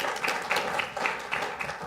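An audience at a colloquium welcomes the panelists with steady, rhythmic applause, clapping in regular pulses close to the microphone for a couple of seconds.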